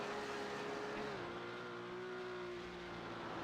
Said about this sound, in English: Just coming up the mountain, revving the absolute wheels off that car.